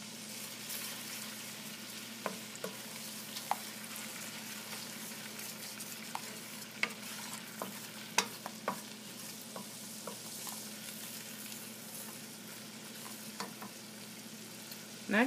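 Shrimp scampi sizzles steadily in a hot pan as Creole seasoning, salt and pepper go in. A continuous frying hiss runs under frequent light scrapes and clicks from stirring, with no talking.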